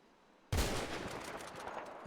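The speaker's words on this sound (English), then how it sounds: "We're going to swap over to the other gun just to use out the last couple of bullets in it" Rapid video-game gunfire as a gun burns through its last few bullets, a sudden dense burst of shots that starts loud and carries on without a break.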